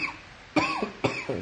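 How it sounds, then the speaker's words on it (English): A person with a bad cough lets out three quick, close, dry coughs, each a sharp burst, heard alone with no talking. "I still have this really bad cough."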